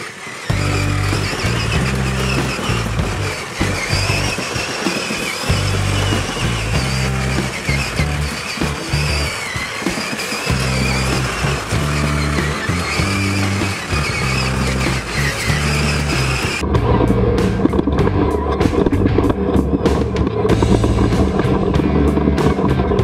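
A giant RC El Toro Loco monster truck with a 60 amp motor driver drives on a test run, its electric motor whining and revving in loud bursts that shift into a harsher, rougher rolling sound partway through.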